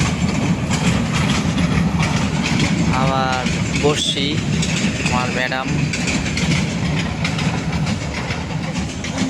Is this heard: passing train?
yes